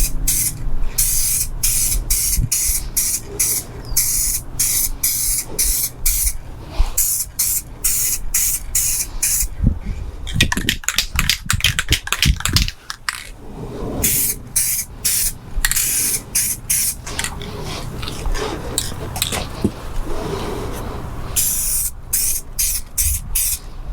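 A spray can lays a light first dusting coat of paint on a 1/10 scale RC crawler body in many short hissing bursts, with a denser rattle and spray in the middle.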